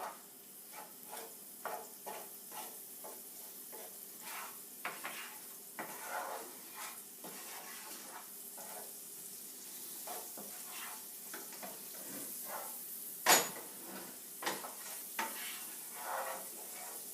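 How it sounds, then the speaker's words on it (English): Onions sizzle steadily in a hot skillet seasoned with ground black pepper, with repeated scraping stirs and a sharp clink near the end, all without talk. "you want to wait until it begins to sizzle"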